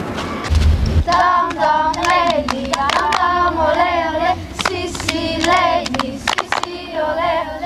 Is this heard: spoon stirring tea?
no